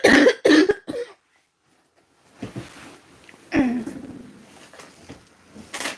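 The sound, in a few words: coughing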